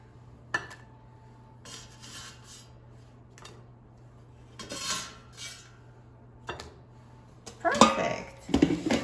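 Roasted whole portobello mushrooms being lifted out of an air fryer basket, with scattered clinks and scrapes of utensils against the basket, quiet at first and growing busier and louder near the end.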